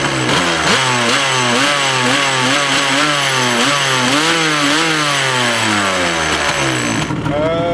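A Yamaha Banshee 350 two-stroke quad engine runs loud and close on its twin stock exhausts, a raspy buzzing idle with repeated rising and falling blips of revving throughout before it cuts off at the end.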